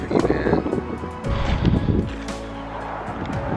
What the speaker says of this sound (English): I think it's windy enough in here